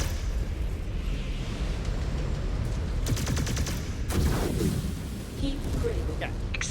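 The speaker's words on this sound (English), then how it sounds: "Exposed reactor. Explosion imminent." Explosions and heavy weapon fire in the mech combat game MechWarrior 5: Clans roar under a dense, noisy battle mix, with sharp bursts around the third and fourth seconds.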